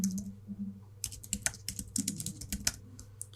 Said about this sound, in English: hold down Command, hit D on the keyboard